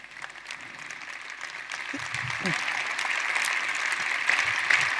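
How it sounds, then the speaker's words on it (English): Audience clapping at a motivational talk builds steadily to a sustained round of applause with a broad hiss of many hands, and a few brief voices break through beneath it. "let's stop clapping so I can finish this one"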